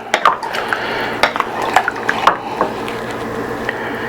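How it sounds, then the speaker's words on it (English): Beef stew with added beef stock being stirred in a pot, a spoon clinking and scraping against the metal in irregular bursts over a soft, wet sloshing, close and clear with no talk. "I'll go ahead and add a little more beef stock. Give it a nice stir."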